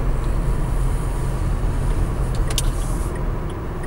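Inside a Dacia Sandero on the move, a steady low road rumble and engine hum fill the cabin, with a brief faint high squeak partway through and no one speaking.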